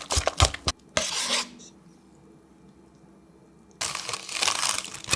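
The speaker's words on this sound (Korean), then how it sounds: "랩을 씌워서" Plastic wrap crinkles and rasps as it is stretched over a bowl of smooth whisked dough, in two loud bursts separated by a quiet pause.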